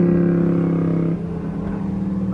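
Lexus RC F engine droning steadily in traffic, a strong low harmonic hum that holds even, then shifts and roughens slightly partway through as the revs change.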